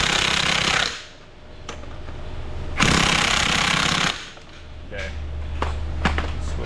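An electric impact gun works on over-tightened lug nuts of a Ford F-150 2.7 EcoBoost pickup, hammering loudly in long rattling bursts with brief breaks and a few sharp knocks.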